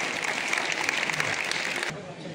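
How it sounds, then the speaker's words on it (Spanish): A crowd applauds the mayor at a town festival in Jaraíz de la Vera, a steady dense wash of clapping that fades at the end. "Recibamos con un caluroso aplauso a nuestro alcalde,"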